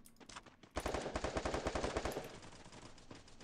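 Rapid automatic gunfire rattles in a single sustained burst in a shooter video game, loud and close, then cuts off into quieter ambience.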